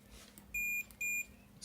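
A multimeter on its continuity setting gives two short, clear, high-pitched beeps as its probes touch points on a mobile phone circuit board, with quiet hum in between.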